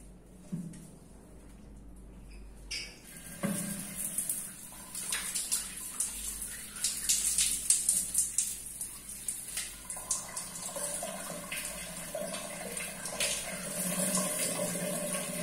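Shower water runs steadily in a home bathroom, a loud, continuous hiss and splatter with small bumps and clatters, close by and with no talking.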